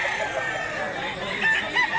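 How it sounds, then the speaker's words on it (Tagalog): Chickens and roosters at a gamefowl farm, with a rooster crowing and hens clucking close by, short and fairly loud. "Kasi maraming manok mga idol"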